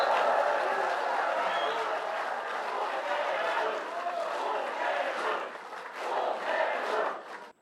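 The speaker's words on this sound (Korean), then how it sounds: "큰 박수 부탁드립니다." Audience applause and cheering from a large crowd at a South Korean political gathering as Seoul's mayor is introduced, a dense, steady roar of clapping and shouts sustained for several seconds before cutting off abruptly.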